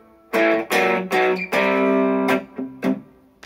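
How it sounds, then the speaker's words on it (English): Distorted electric guitar playing two riff parts together, a run of loud sustained chords and short choppy stabs with brief gaps between them, heard close and alone. "if I were to play pretty much both parts at the same time, it would sound kind of like this."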